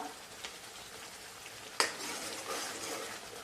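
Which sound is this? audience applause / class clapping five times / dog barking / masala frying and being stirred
masala frying and being stirred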